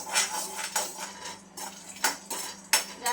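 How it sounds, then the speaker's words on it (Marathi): Peanuts dry-roast in a pan on medium heat, with a spoon or spatula scraping and clinking against the metal in irregular bursts, close up and fairly quiet with no voices. "शेंगदाणे आपल्याला भाजून घ्यायचे त्याच्यावरती हलके डाग येईपर्यंत आपल्याला शेंगदाणे भाजून घ्यायचे"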